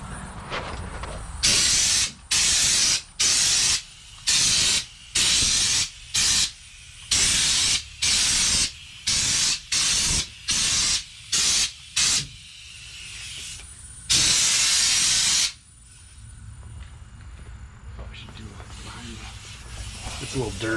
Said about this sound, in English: I'll paint these back areas because this is going to run out fast.